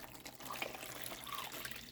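Nearly boiling water pours from a tea kettle into a mixture for dyeing wax paper, a continuous close splashing trickle that runs steadily for a couple of seconds with no talking over it.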